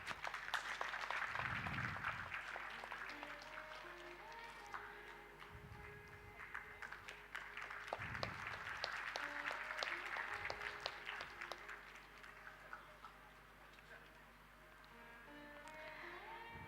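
An audience at an international Ayurveda conference claps steadily. The applause is faint and distant and swells and fades over several seconds.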